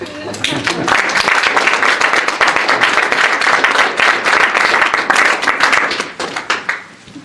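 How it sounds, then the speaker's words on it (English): An audience at an evening lecture applauds the arriving speaker, sustained, dense clapping that swells quickly, holds for several seconds, then thins out into scattered claps. "Let's have a round of applause for Steve"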